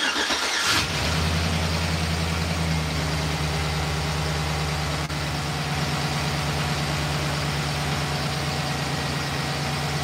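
A car engine cranks and catches after a lifter repair on a DOD-equipped motor, then settles into a steady, even idle that runs close and loud without talk.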